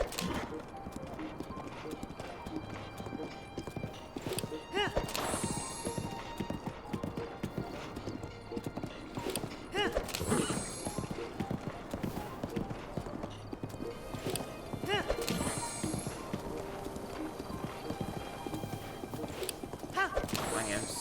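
Hooves of a horse galloping in a video game clop in a fast, steady rhythm throughout, close and prominent, with occasional whinnies and snorts over an outdoor game soundscape and no one talking.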